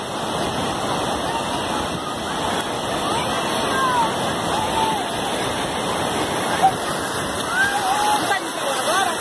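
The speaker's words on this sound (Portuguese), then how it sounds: "Pensa na praia movimentada" A crowded beach at Praia Grande, São Paulo, with a steady wash of surf and a dense murmur of many distant voices and shouts, the roar continuing throughout at an even, moderate level.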